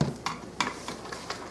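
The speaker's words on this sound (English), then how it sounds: "Okay, I just want to stir." Chicken spaghetti casserole ingredients stirred in a pot, giving a few soft scraping strokes with light sizzling underneath, close and fairly quiet with no talking.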